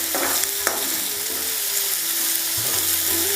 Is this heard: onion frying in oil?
yes